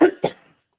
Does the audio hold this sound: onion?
no